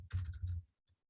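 A short burst of keystrokes on a computer keyboard while a command is entered: several quick, close clicks in a row, then a pause and one faint final tap.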